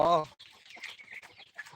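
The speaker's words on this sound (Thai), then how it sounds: "มันมีไก่นะครับเนี่ยอันนี้ไก่ตีนะครับ" Fighting chickens, gamecocks kept on a Thai farm, give one loud, close cluck, followed by fainter scattered clucks and rustling from the flock nearby.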